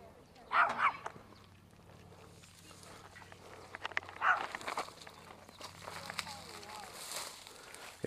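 A dog greeting new people outdoors during a bowfishing outing, with a couple of short bursts that may be barks or yips near the start and middle, heard amid people talking and rustling footsteps.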